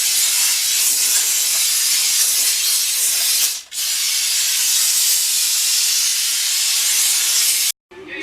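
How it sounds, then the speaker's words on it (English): A steam cleaner blasting engine parts, a loud continuous close hiss that briefly cuts out midway, then resumes before stopping near the end. "Put all the parts steam clean."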